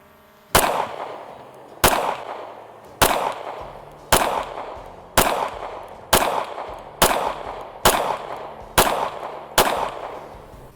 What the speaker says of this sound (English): Okay, let's shoot some more. Okay, so this is 5 yards.